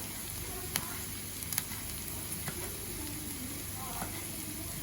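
Onions and garlic fry in a pan with a steady, moderately quiet sizzle, punctuated by small clicks and scrapes of stirring.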